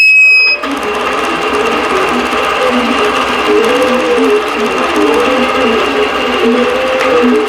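A sewing machine stitching a tapestry, with top thread and bobbin loaded: a steady, loud motor whir with rapid needle chatter and a faint rising and falling tone, running continuously after a brief start, no talking.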